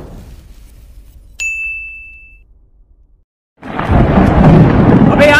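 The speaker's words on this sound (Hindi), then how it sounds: "बिजली कड़क रही है" Thunder cracks and rumbles loudly after a bright metallic ding and a quiet pause, the stormy roar filling the last seconds.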